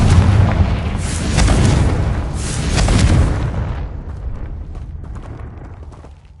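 A Confringo fire spell bursts in Hogwarts Legacy with a loud, deep rumbling blast that swells in two or three waves, then fades into a long, low, fizzling tail.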